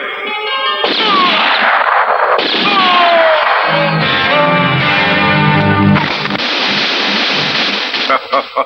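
Rapid gunfire bursts out amid loud, dense dramatic effects in a 1990 Hindi drama film, continuous and heavily layered, with brief gaps before shots resume.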